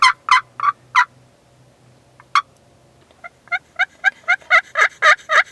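A hunter's box call imitates a turkey, first producing a few raspy spaced yelps and then a rapid, rising gobble-like rattle of sharp notes, loud and close.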